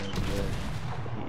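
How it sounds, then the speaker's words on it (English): Warship turret guns firing one shot after another in the World of Warships video game, heard as a dense, continuous low rumble of booming fire, fairly loud and steady throughout. "we're firing 1 shot after the other, and we only get three turrets to fire"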